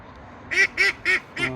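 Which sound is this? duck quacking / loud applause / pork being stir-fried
duck quacking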